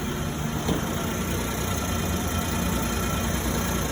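A vehicle engine runs steadily in first gear with two-wheel drive engaged, a loud, close, continuous rumble with an even drone and no breaks.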